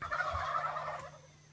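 Flock of about fifteen male Rio Grande wild turkeys gobbling together in South Texas brush, a dense overlapping chorus of rattling calls, fairly close and continuous before fading slightly at the end.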